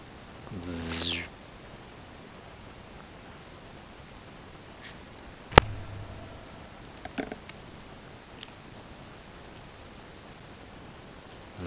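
A creature in the video game The Last Guardian gives one drawn-out, harmonic, cat-like cry early on. Later there are a few sharp clicks and small knocks over a quiet, steady game ambience.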